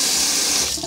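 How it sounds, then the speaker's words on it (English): A bathroom tap runs in a steady, close hiss of water as a toothbrush is wet under the stream, the flow briefly breaking up at the end. "now I just like to wet it again."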